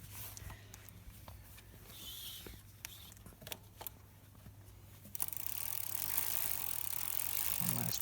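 A bicycle crank turned by hand while the drivetrain is cleaned of dust before lubrication. It gives soft ratcheting clicks close by over a low steady hum, and the sound grows brighter and busier in the last few seconds.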